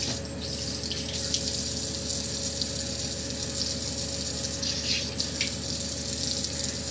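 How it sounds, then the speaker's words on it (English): Tap water running steadily into a sink, a continuous close splashing hiss with no speech, as someone wets their face with lukewarm water. "you wet your face with lukewarm water"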